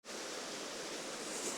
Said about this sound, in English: So we found this little waterfall.